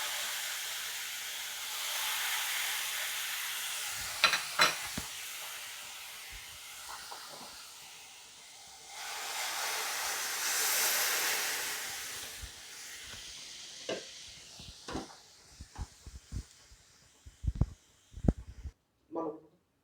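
Sweetened milk, boiled with sugar, is poured slowly over fried lachcha semai, giving a steady, fairly loud hiss that swells and fades, then gives way to scattered clinks and taps.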